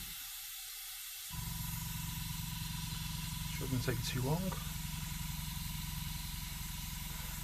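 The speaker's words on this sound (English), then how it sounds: "I'm just going to blow all the paint straight out of it" A Harder and Steenbeck Infinity CR+ airbrush blows paint out onto paper in a steady close hiss that starts abruptly and keeps going, while a person speaks briefly over it.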